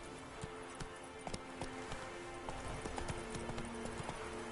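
Horse hooves clip-clop at a walking pace from Roach in The Witcher video game, with distinct, fairly close, evenly spaced strikes over a steady ambient background.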